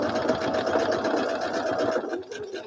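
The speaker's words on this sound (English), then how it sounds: "and I start sewing down the other side" A sewing machine stitches quilt pieces with a fast, steady whirring chatter of the needle that runs close and clear for a couple of seconds before easing off near the end.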